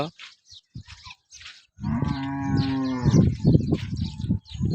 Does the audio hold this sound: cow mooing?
yes